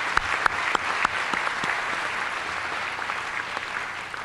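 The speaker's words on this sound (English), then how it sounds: "Let's give them a round of applause for this event." Applause at a SAMCEDA 2013 awards event for the organization's staff: a crowd claps steadily, a few sharp individual claps standing out early, the sound moderately close and even throughout.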